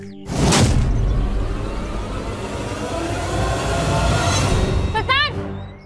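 A train rolls through Old Delhi railway station, a loud continuous rumble of wheels and carriages with a brief squeal near the end, heard close and alone without talk.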